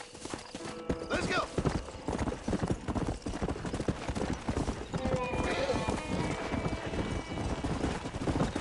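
Horse hooves clip-clop in Red Dead Redemption, a busy continuous patter of hoofbeats close by, with a horse whinnying and a voice speaking over it.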